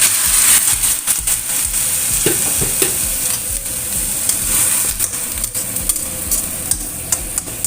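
Pumpkin and meatballs in a pan hiss and sizzle steadily after a splash of water, with occasional stirring scrapes and bubbling crackles close up.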